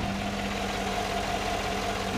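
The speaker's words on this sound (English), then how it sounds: "V8. Good on gas, tons of power, running nice and smooth." A 2014 Chevy Silverado 1500 Z71 with a 5.3-liter V8 idles smoothly, giving a steady, even hum with a constant low drone and no change in pace.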